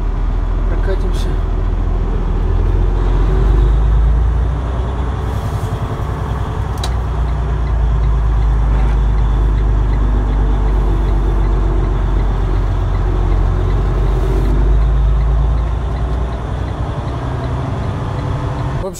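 A truck loaded with Christmas trees pulling away, its engine a loud, continuous low rumble with road noise that carries steadily from start to finish.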